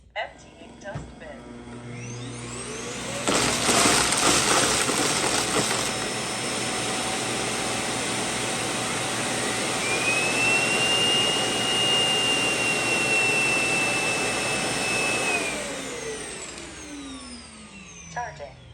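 Loud, steady whooshing suction roar from a Roborock Q7 Max+ self-emptying robot vacuum dock emptying its bin, rising abruptly and running several seconds before winding down.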